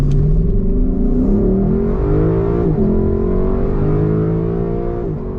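A Lexus LC 500 with a naturally aspirated 5.0-liter V8 and rear-wheel drive gives a loud, close, continuous deep engine roar with rising and falling revs and a brief shift dip midway, with no voices.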